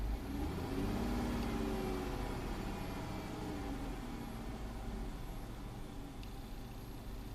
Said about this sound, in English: So I raised the RPM up a little bit.